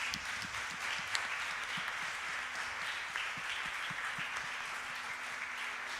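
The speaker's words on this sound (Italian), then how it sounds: "Possiamo fare un applauso al Signore." A church congregation at a Verona worship service applauds the Lord, giving soft, distant, sustained clapping in a reverberant hall with a low steady hum beneath.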